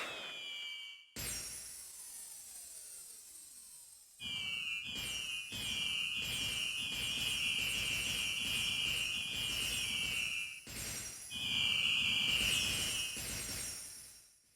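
Glassy, chiming fireworks bursts from a Pokémon X and Y scene, bright shimmering tones ringing out in several loud waves with short gaps between them, no voices.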